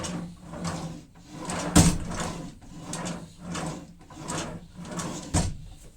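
A reclaimed-wood drawer in a DIY campervan kitchen slides repeatedly in and out, giving rhythmic rumbling glides with a couple of sharper knocks as it shuts, heard up close.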